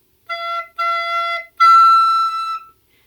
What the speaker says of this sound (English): Remember to use just a little bit of air because otherwise it will squeak up.